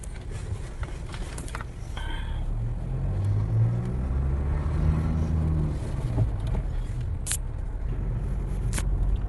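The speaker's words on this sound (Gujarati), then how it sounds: "તો બધી ગાડીઓ જઈ રહી છે" Cars passing on the Delhi-Mumbai Expressway at the Pungam entrance near Bharuch, a steady engine and tyre rumble that swells as vehicles go by, heard from nearby with no talk.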